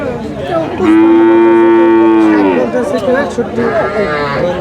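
A small bull at a cattle market lets out a long, loud close moo, followed by further lowing and market noise, with people talking around it.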